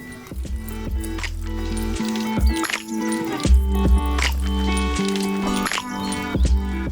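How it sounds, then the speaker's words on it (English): Wet squishing and dripping as lime juice is squeezed by hand into a stainless steel blender for satay sauce, in several bursts of splatter and drips with soft clinks, close up and without speech. "Finally, just the juice of a lime."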